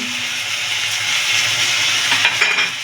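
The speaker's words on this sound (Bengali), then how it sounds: "এবার এটাকে আমরা ভালো করে একটু কষিয়ে নেব" Turmeric, cumin and coriander powder with a splash of water and salt frying in a pan for Bengali katla fish kaliya, giving a steady close sizzle with light stirring scrapes throughout.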